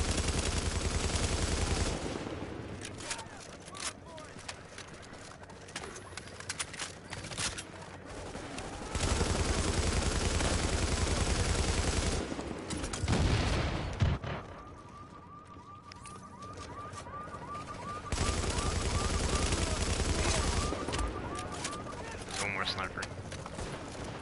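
Submachine gun fire from The Division's Dark Zone rattles out in several loud sustained bursts separated by quieter gaps, with voices present at times.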